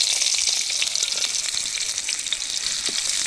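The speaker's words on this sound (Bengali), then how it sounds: "এখন আমি দিচ্ছি পেঁয়াজ, কয়েকটা পেঁয়াজ কাটা দিচ্ছি।" Chopped onions fry in ghee and mustard oil in a pan over a wood-fired stove, making a steady, close, bright sizzle with soft stirring.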